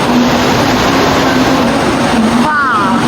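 Loud rumble of a passenger train in motion during a rainy-day trip, steady and close throughout, with a brief high whine near the end and a voice speaking over it.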